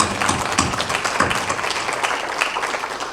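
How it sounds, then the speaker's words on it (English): An audience at a school district safety summit gives the panelists a round of applause, a continuous, fairly loud wash of clapping across the whole stretch. "let's give our panelists a big round of applause for their participation."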